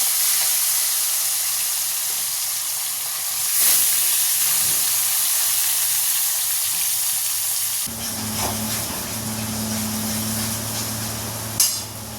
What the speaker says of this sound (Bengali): তার জন্য মশলাটা কষাচ্ছি আর এই যে মাছ আর আলু সব ভেজে নিয়েছি